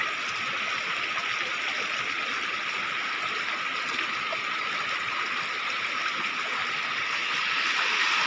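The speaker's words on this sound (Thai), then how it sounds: "น้ำไหล" Floodwater flows steadily through a rural village in Bueng Kan, Thailand, after a heavy storm, a constant rushing wash that holds an even level throughout with no voices over it.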